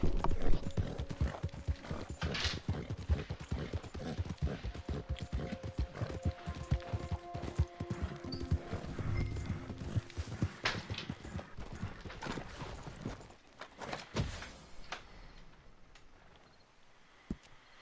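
Horse hooves in Red Dead Redemption 2 clip-clop in a steady, brisk rhythm throughout, gradually fading toward the end, with a brief whinny mixed in.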